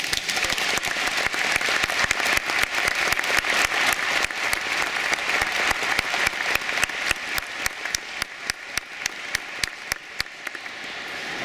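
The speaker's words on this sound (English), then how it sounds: "I think it's appropriate that we recognize them with a round of applause." An audience at an eighth-grade graduation ceremony gives a sustained round of applause. Many hands clap densely and loudly, and the clapping gradually thins into more distinct individual claps near the end.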